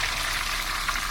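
Rolled egg snacks (telur gulung) from a cheap street stall sizzle in hot oil as they fry a second time, a steady, dense crackle with no pause and no voices.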